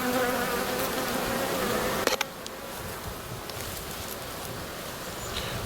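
A colony of black honey bees hums steadily and densely up close, with a brief knock partway through and the buzzing continuing on.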